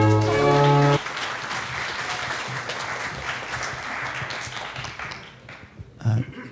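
Audience applause welcoming a university president to the stage at an academic lecture, a dense wash of clapping after a brief burst of louder sound, tapering off with a short bump near the end.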